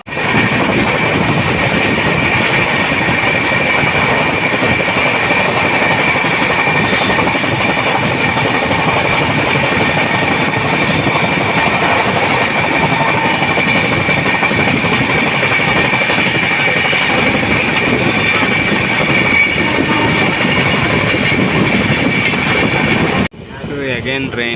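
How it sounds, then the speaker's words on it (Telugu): A train passes near Gudur station in the rain, a loud continuous rumble with rhythmic clickety-clack of wheels on rail joints lasting over twenty seconds before cutting off abruptly. "Again train is coming."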